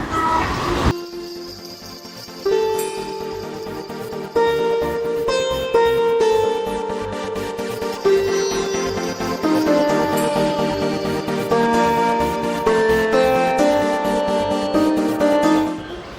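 A train pulls into Haridwar station, its steady rumble and rhythmic clatter of wheels over rail joints loud and close throughout, with layered horn-like tonal notes sounding above the noise.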